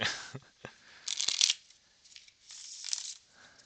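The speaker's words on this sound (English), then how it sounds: "I'm currently just shuffling the clear deck." A clear plastic deck of playing cards is shuffled in short papery riffles and slides, a few quick bursts with brief pauses between, close and fairly quiet.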